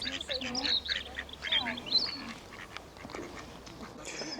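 Ducks quack in a springtime setting beside a cycling path with flowering trees, giving a string of short nasal calls in the first two seconds over soft outdoor background noise and faint voices.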